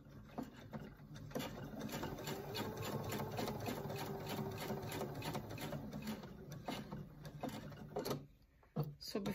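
A sewing machine stitching a tote bag runs at a steady, rapid mechanical chatter for most of the stretch, close by, then slows and stops near the end with a couple of handling knocks.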